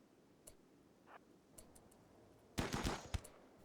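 Short bursts of assault rifle fire in the colony game Rimworld during a one-on-one fight against a club wielder, faint scattered shots then a louder cluster of rapid cracks near the end.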